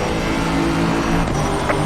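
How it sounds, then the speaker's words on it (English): A race car engine revs loudly in the Assetto Corsa Competizione racing game, a continuous close-up engine roar with shifting pitch and no talking. "You can just listen to the car and look at the circuit"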